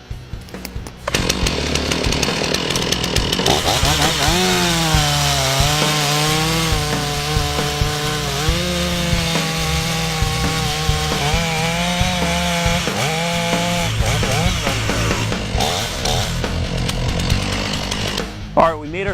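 A chainsaw roars close and loud as it cuts the face notch into a standing tree, its engine pitch wavering steadily while it works through the wood, then dropping back to idle near the end.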